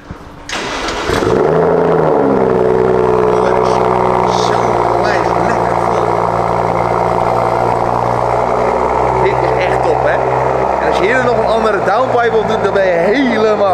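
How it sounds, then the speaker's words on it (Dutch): BMW M8 Competition V8 starts with a sharp bark, then settles into a loud, deep, steady idle with rising revs near the end, heard close. Someone speaks over the engine. "Dit is in mijn ogen het best klinkende motor van BMW."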